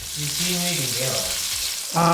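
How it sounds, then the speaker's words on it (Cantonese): Prawns pan frying in oil in a wok for black bean sauce prawns, a steady close sizzle throughout that swells louder near the end as more oil hits the hot pan. "We'll add another tablespoon of oil to the sides to get a better pan fry."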